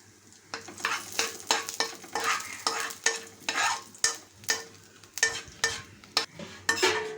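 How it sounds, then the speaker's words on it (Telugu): Almonds and cashews fry in ghee for a vermicelli and sago payasam, a steady close sizzle broken by repeated scraping stirs of a spoon against the pan in a regular rhythm, with no talking. "టూ స్పూన్స్ నెయ్యి అయితే వేసానండి ఇంకా బాదము అలాగే జీడిపప్పు ఫ్రై చేసుకుందాం"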